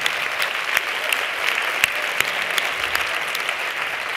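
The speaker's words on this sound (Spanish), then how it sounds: "Y un aplauso para estos valientes que se han tirado a la piscina." Audience applause at a conference in Huesca, following a session on new digital media: a steady, fairly loud wash of clapping with sharp individual claps standing out, continuing for the full length with no voices.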